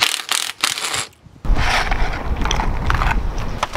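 A 19 mm impact wrench works on a car spring compressor while rear springs go onto an E60 M5, giving loud, close mechanical rattling and hammering bursts after a short pause, with no talk.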